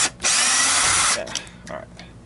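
Power drill backing screws out of a Miele Dynamic U1 S7 upright vacuum's motor cover: a close, loud whirring burst of about a second, then quieter handling clicks.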